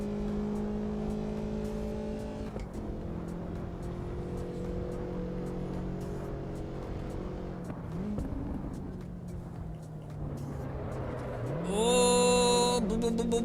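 An Alfa Romeo engine droning steadily while driving in Assetto Corsa Evo, pitch sagging slowly through long gear holds, then a sharp rise and loud rev near the end.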